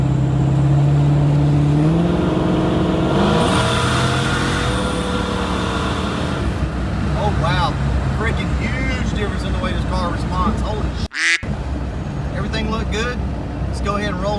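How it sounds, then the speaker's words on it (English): A car engine is held at about half throttle during a tuning pull, giving a steady, loud drone that climbs in pitch, with a person talking over it. "So we'll do probably half throttle first off."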